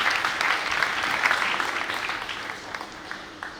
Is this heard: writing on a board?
no